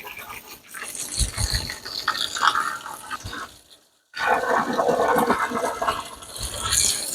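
Water pours and splashes steadily into loose sand backfill around treated wood retaining wall posts, close and continuous with a brief pause midway before the flow resumes.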